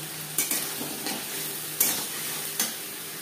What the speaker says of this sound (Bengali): দু 3 মিনিট নাড়াচাড়া করে নেওয়ার পর দিয়ে দেবো আলু।